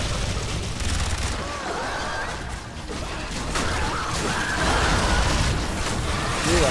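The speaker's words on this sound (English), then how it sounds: "empty my bullets into the threat" Rapid bursts of gunfire in Warframe pour out continuously against a threat, a dense rattling barrage under game noise that swells louder toward the end.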